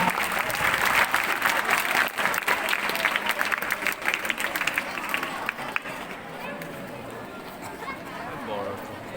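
Loud, dense applause from a school audience at an annual function, steady for several seconds before thinning toward the end, with crowd chatter and voices mixed in.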